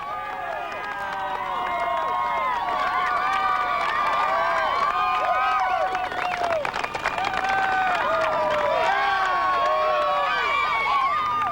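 Spectators line the finish of the 1998 Escape From Alcatraz Triathlon, a loud, dense crowd of cheering, shouting and clapping that swells to a peak midway and carries on throughout, with voices calling out over the roar.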